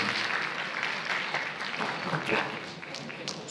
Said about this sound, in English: another round of applause for Janine as she comes to deliver her prese